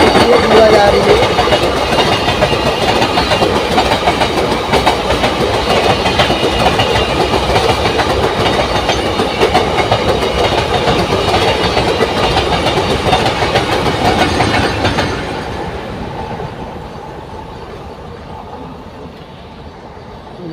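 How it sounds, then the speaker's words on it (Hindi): A passenger train bound for Rewa from Bhiwandi rolls past nearby with a steady loud roar of wheels and rattling carriages for about fifteen seconds, then the noise fades as the last cars pull away, with faint background sounds remaining. "गया दोस्तों ट्रेन।"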